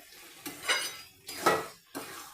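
A utensil scrapes and stirs through a pan as poppy seed paste is mixed into cooked bottle gourd, with three distinct strokes sounding close and moderately loud against a quiet background.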